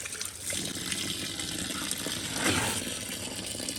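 Water sloshes and trickles steadily as wheat grain is rinsed, a soft continuous swishing that swells briefly partway through, with no talking.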